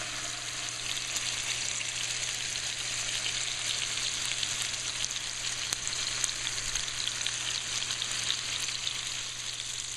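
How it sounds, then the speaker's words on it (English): Lamb loin chops coated in marinade sizzle steadily in a frying pan, a constant close crackle and hiss running evenly throughout with no voices. "all we do is we coat them well with this this marinade or seasoning, and then we put them into a frying pan"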